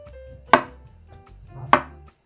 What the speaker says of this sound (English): Let's chop the broccoli into smaller pieces. Then we will cut the mushrooms.